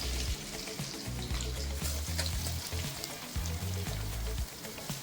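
Onions and green chilies sizzle in about three tablespoons of hot oil while cooking mutton palak keema, a steady close frying hiss with irregular low clatters of stirring and pan movement throughout.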